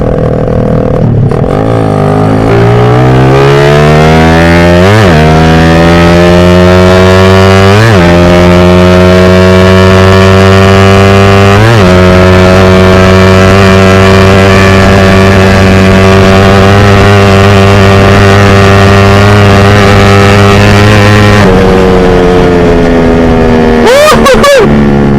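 A Raider 150 motorcycle with a 28mm Class A Keihin carburetor accelerating hard, its engine loud and close, climbing in pitch through several gear shifts and then easing off near the end.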